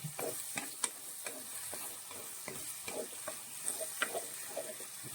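Chopped tomatoes sauté in a pan for a fish curry, with a soft steady sizzle and a spoon repeatedly scraping and stirring in an irregular rhythm, close and fairly quiet.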